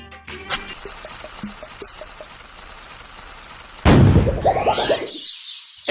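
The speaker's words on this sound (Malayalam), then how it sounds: "ആരാ പൊട്ടാസ് പൊട്ടിച്ചേ?" A firecracker goes off with one loud, sharp burst near the end, after a stretch of quieter clicks and a smaller pop, heard up close in a comedy scene.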